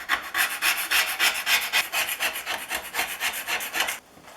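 A hand scraper works over the metal parts of a Stanley Bed Rock 607 jointer plane, a loud, steady run of rhythmic rasping strokes, close up with no talk, that stops abruptly near the end.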